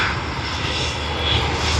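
Steady, loud aircraft engine roar from a plane at Sydney Airport in the evening, a continuous broadband drone with no voices.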